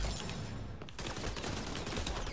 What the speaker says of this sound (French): J'ai tiré les deux balles.